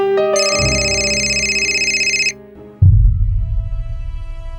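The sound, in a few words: telephone ringing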